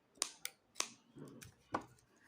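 Scissors snip through crochet yarn while a striped bag is finished, giving a few sharp, close clicks spaced about half a second apart, followed by a softer rustle.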